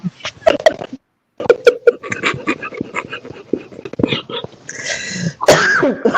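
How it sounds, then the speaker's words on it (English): A person coughs and clears their throat several times in short, rough bursts close to the microphone, with brief pauses between fits and some breathy sounds. "Excuse my coughing, y'all."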